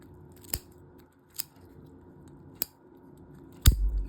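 Shears snip through a bluegill's head during taxidermy skinning, giving four sharp, crisp cuts spaced apart, the last louder and followed by a brief handling rustle, all close and with no talking.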